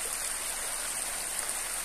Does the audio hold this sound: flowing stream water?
yes